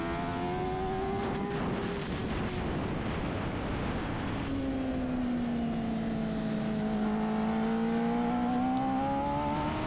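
A rival Superstock 1000 racing motorcycle engine screams close behind on track at NOLA Motorsports Park, its loud whining tone rising and falling through gear changes under heavy wind roar, with no talk.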